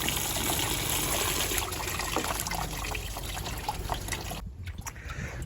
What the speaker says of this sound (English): This is spraying into the radiator.